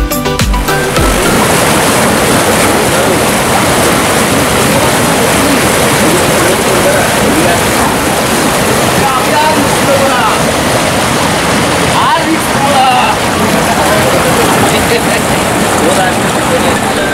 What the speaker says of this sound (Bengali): প্রবল বেগে পাথরের মধ্য দিয়ে বয়ে চলেছে জলধারা